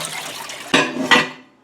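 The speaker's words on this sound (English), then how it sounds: "So I'm going to add some extra water." Extra water is poured into bone broth in a pot, a short liquid splash with two quick gushes and a faint clink, close and alone.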